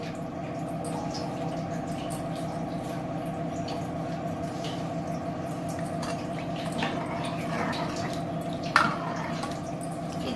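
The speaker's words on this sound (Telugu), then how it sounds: "దీన్ని 10 నిమిషాలు మరగనిద్దాం" Tamarind dal (chinthakaya pappu) simmering in a pot, giving a steady, soft bubbling and gurgling with small wet pops, moderately close and without talk.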